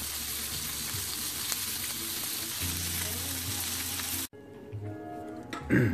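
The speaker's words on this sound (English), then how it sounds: "There we go, sizzling away." Steady, loud sizzling of freshly harvested oca frying in a pan, a dense crackling hiss that cuts off abruptly near the end, followed by quieter clatter.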